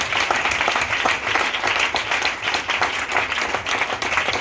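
A church congregation at a miracle and healing prayer service claps and applauds continuously and loudly throughout, with voices mixed into the crowd noise.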